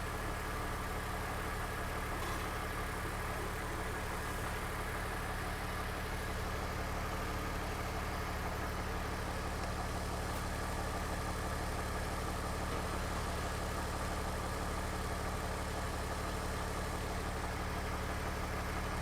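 A BMW E39's engine idles steadily throughout, a continuous low hum with a faint mechanical whine, heard close and alone with no talking.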